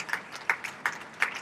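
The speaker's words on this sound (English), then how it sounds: "Please keep clapping." At a summit, faint audience clapping comes as a few separate, evenly spaced claps, sparse and quiet rather than a full ovation.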